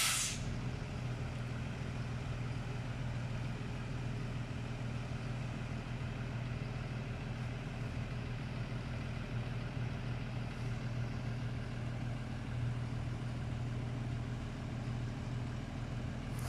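A bus engine idles steadily at a distance, a constant low rumble that holds unchanged throughout, with a short hiss of air brake at the very start.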